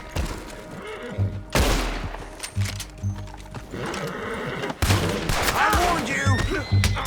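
Gunfire in Red Dead Redemption II, several loud bursts of shots mixed with horse whinnies and hoofbeats, with game music and voices in between.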